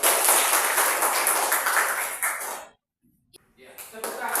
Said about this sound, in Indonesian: Tepuk tangan, kawan.